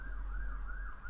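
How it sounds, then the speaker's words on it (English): An emergency vehicle siren wails past on a main road outside, a steady rising and falling tone, faint and distant under a constant low rumble. "If you can hear a siren going past, don't worry."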